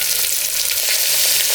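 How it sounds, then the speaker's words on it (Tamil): Tomatoes go into a hot pan of sautéed onions and cumin for a lentil dal, giving a steady, loud close-up sizzle and frying hiss with no voices. "நம்ம இது தக்காளி போட்டுக்கலாம்."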